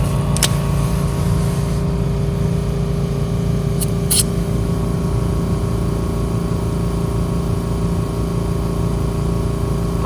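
A portable air compressor runs steadily and loudly to inflate a car tire, a constant motor drone with a hum, interrupted by a few brief hiss-like bursts near the start.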